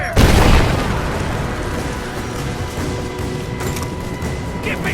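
Gunfire and explosions in the Rise of the Tomb Raider video game: a loud boom opens, followed by a dense, continuous rumble of blasts and shooting that carries on throughout.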